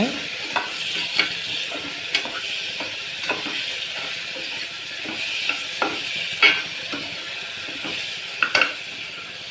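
Tomatoes sautéing in a pan for a cabbage paniyaram kuzhambu give a steady close sizzle, with a spoon scraping and stirring at irregular intervals throughout.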